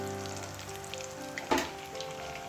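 Bonda deep-frying in oil, with a continuous close bubbling sizzle throughout and a short burst of louder crackle partway through, with no talking.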